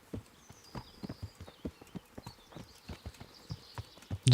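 Horse hooves in the video game Kingdom Come: Deliverance beat out a brisk, even clip-clop rhythm close by, with faint ambient tones above and a loud burst at the end.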